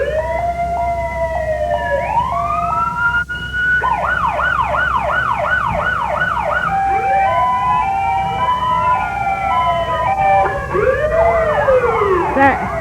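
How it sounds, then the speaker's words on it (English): Loud overlapping fire truck sirens at a 1992 Christmas parade in Neodesha, wailing and yelping, several tones sweeping up and down at once, sustained and close throughout. "One of the local firemen entertaining the kids along the way with extra siren power"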